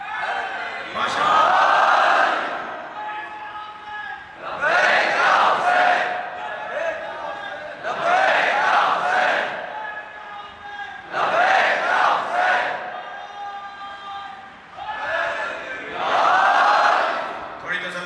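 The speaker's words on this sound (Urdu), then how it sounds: "بھائی باہر سے بھی کوئی صلوات اور نعرے کی آواز آنی چاہیے نا." A large crowd at a Shia majlis gathering chanting salawat and slogans in loud, swelling unison bursts that repeat every few seconds, with a lull between each chant.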